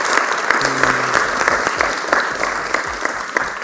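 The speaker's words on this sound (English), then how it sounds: "Let's give a round of applause for side proposition." An audience applauds a winning team at the close of a university debate between USIU and Strathmore, a dense patter of clapping hands that stays steady throughout with a faint voice briefly underneath.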